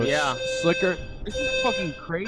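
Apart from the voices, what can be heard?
fire alarm going off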